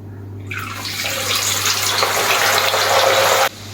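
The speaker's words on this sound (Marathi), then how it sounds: "आता या भांड्याच्या साह्याने मी हे अख्खे मसूर या तेलामध्ये टाकून घेत आहे" A sudden burst of loud, steady sizzling as whole lentils drop into hot oil, holding for about three seconds before cutting off sharply.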